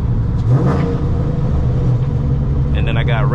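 A cammed S197 Mustang GT with a catless X-pipe and Roush axle-back mufflers rumbles and revs loudly and continuously, with someone talking over the engine throughout.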